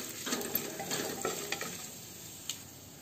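Whole spices including black peppercorns, coarsely crushed, roasting in a pan for Mithila-style black chickpea ghugni, with a faint sizzle and soft scraping stirs and a few light clicks of the spoon against the pan.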